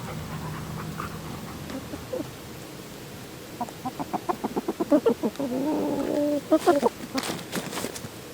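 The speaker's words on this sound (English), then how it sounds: "Chicks." Chickens and chicks cluck and chatter in quick bursts, with higher chirping peeps near the end, moderately close, over a quiet outdoor homestead background.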